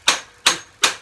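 A hammer pounds out stripped bolts on a Yamaha YZ250 motorcycle, giving three sharp, evenly spaced metallic blows close up with no talking.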